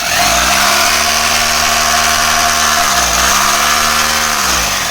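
An electric hammer drill powered from a batteryless inverter gives a steady, loud motor whine with strong harmonic hum throughout, dipping briefly mid-run as the load changes.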